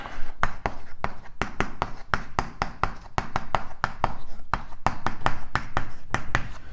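Marker or chalk strokes on a board during a cosmology lecture, a rapid series of sharp taps and scratches in steady irregular rhythm, close and fairly loud with no voice.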